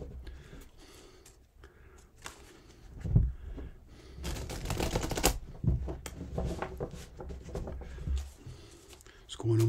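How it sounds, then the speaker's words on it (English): Rapid riffling and papery flutters from a tarot deck being shuffled, a few bursts in succession, with a voice talking over the top. "Let's just give the cards a good shuffle before we get into this."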